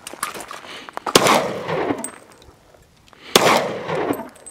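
Guns fired outdoors, two sharp loud reports about two seconds apart, each followed by a long rolling echo that fades away, with no talking.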